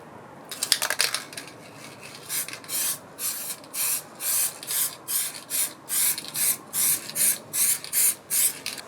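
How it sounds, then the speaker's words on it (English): A spray paint can sprays over a stencil: a long hiss first, then a steady run of about a dozen short, evenly spaced bursts, loud and close, with no talking. "Trying really hard to control my spray here."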